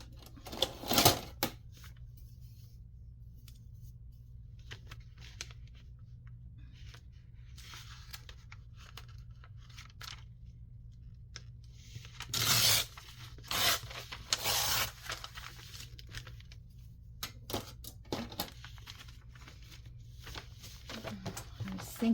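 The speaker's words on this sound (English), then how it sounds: "let me rip this section out" Paper torn out of a junk-journal page in a few sharp ripping bursts, close and fairly loud, separated by quieter handling and rustling.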